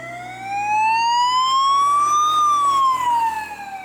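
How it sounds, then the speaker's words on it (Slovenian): A police siren wails nearby, its pitch sweeping slowly upward and then falling, loud and continuous without any voices. "zdaj se slišijo se sirene, zdaj nema, ne, ja, to so policisti"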